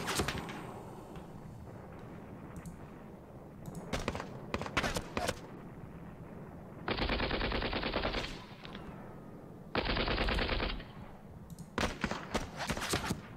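Machine gun fire in the wargame Panzer Battles North Africa: two sustained bursts of rapid automatic fire, each lasting about a second, among scattered single shots and sharp in-game combat effects.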